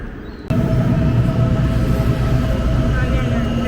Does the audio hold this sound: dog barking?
no